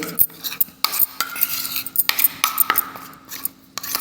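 A ragi face pack paste with honey and curd is stirred in a bowl, giving repeated scraping and clinking of a spoon against the bowl in an irregular rhythm, close up, with no voices.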